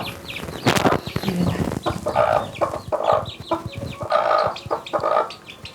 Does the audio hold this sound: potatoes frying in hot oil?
no